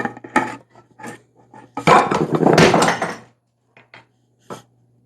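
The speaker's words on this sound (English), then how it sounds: "I dropped that big container of salt and it went everywhere" A big container of salt hits a kitchen floor with a hard clatter and a rush of granules scattering for about a second, framed by scattered small knocks and handling noises in a quiet home kitchen.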